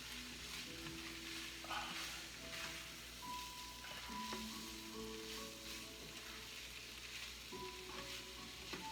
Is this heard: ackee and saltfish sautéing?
yes